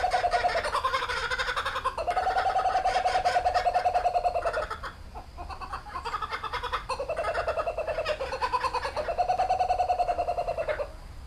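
Kookaburras calling at the Detroit Zoo: loud rising-and-falling cackling bursts in two long bouts separated by a brief lull, harsh and rhythmic, heard close with no talk over them.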